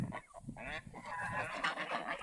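Geese honking from a pond at a goose farm, a few harsh overlapping calls at moderate distance against soft outdoor background noise.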